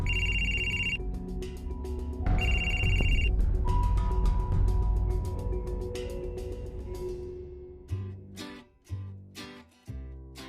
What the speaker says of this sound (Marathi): कोणाचा फोन आहे?